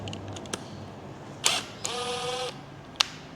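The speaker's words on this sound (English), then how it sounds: "drive clutch retaining bolt is left-handed thread, and that's an 18mm" A ratchet wrench clicks and whirs briefly while loosening the left-hand-thread 18mm drive clutch retaining bolt on a Polaris, a few sharp mechanical clicks and a short buzzing turn, close by and with no talking.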